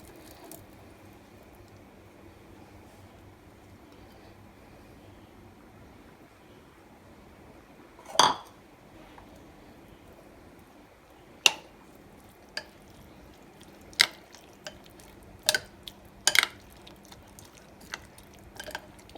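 Fried potato and onion stirred into Spanish omelette egg batter in a bowl, heard as scattered sharp spoon taps and clicks against the bowl over a quiet, steady room hush, with no speech.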